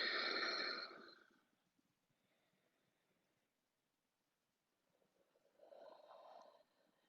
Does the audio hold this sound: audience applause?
no